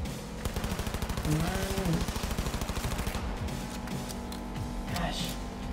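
Rapid automatic gunfire in Cyberpunk 2077, a fast steady stream of sharp shots for a few seconds that then gives way to scattered bursts, with a voice briefly talking over it.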